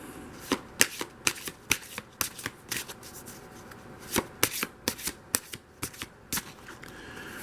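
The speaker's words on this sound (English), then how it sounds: "let's shuffle the cards" A deck of Doreen Virtue's Angels Oracle cards is shuffled by hand: a run of quick, crisp riffling bursts in an irregular rhythm, close and fairly quiet with no talking.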